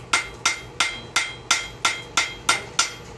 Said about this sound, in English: I'm really just letting the weight of this hammer